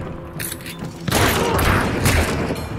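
A heavy pistol fires in Hunt: Showdown, a loud close burst of shots that hits abruptly and rings out in a dense, rumbling tail over quiet game ambience.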